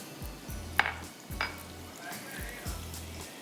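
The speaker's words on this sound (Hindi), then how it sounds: "सिरका और चीनी साथ मिक्स कर लीजिएगा" Vinegar and sugar stirred together in a dish, a few quiet spoon strokes and clinks against the container repeating about every second, with faint kitchen sizzling in the background.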